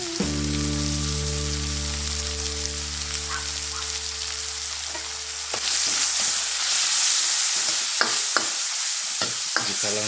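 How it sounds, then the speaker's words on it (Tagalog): Lomi ingredients sautéing in a pan, first under a loud low hum, then a bright steady sizzle with several sharp scrapes and clacks of stirring, close and without talk. "Gisa lang natin ulit."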